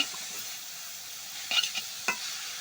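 Amaranth stems and greens frying with potato in a pan, a steady close sizzle broken by a few scraping stirs near the end.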